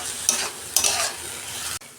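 Leafy greens fry in a pan as they are stirred, a bright, close sizzle with two scraping pushes of the spatula before the sound cuts off abruptly.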